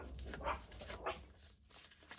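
A loud pet dog barks indoors, giving two or three close, sharp woofs in quick succession with brief gaps between them.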